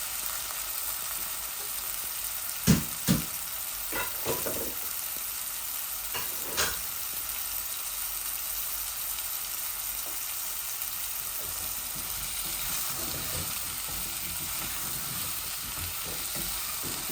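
Red lettuce fries with onions in a thin cooking pot, making a steady, even sizzle throughout, with a few sharp knocks of stirring near the start.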